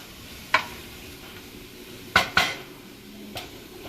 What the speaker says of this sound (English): just to sweat out the onions and have them flavored